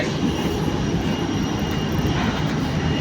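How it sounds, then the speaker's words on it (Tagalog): A fixed-wing airplane drones steadily overhead, a continuous low rumbling roar holding at an even level throughout, with no talk. "Aeroplano."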